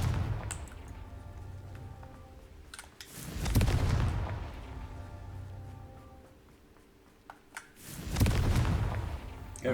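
Confringo explosive spell blasts in Hogwarts Legacy: two heavy booming bursts a few seconds apart, each swelling loud and close and then fading into a low rumble, over quiet game ambience.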